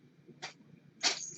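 A soft sneeze indoors, a faint short breath first and then a brighter burst, heard alone and fairly quiet.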